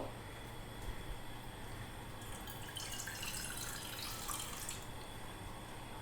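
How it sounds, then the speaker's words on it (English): Water runs and splashes steadily into a vessel for cooking Maggi noodles for a few seconds, a soft hissing pour over a quiet background hum. "pour some water"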